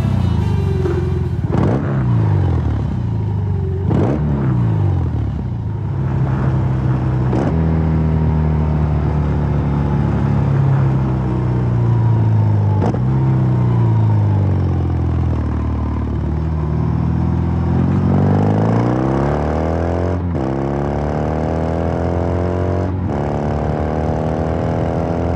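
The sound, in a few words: BMW R 18 motorcycle exhaust revving and idling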